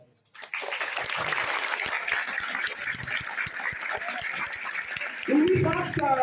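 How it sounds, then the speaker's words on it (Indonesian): Applause from a school audience at a Maulid Nabi celebration, a steady broad clatter of many hands that holds for several seconds, with a voice cutting in near the end. "Aplaus dong."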